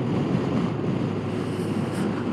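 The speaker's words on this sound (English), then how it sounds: "Wind is definitely windy today," Wind roars steadily into the microphone while riding a 2018 Goldwing motorcycle, a dense, loud buffeting rush that continues without a break and with no talking.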